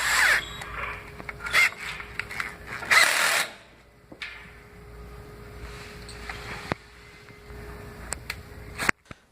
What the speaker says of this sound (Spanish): Con el taladro y la punta Torx, apriete el tornillo.